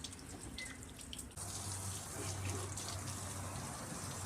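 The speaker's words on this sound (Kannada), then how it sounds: "ಓ, ಬಾಡಿ ಕೆಳಗೆಲ್ಲ ವಾಶ್ ಆಗ್ತಿದೆ, ಮೇಲೆಲ್ಲ ವಾಶ್" Water sprays over a car body during a wash, a steady gushing hiss that grows louder partway through and continues unbroken, with no one talking.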